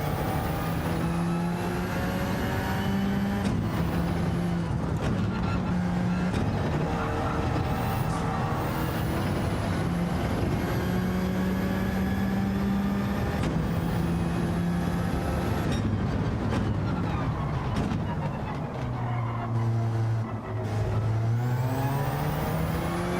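Race car engine in the Gran Turismo 7 driving game, revving continuously through repeated upshifts and downshifts with rising and falling pitch sweeps, loud and steady for over twenty seconds with no talk.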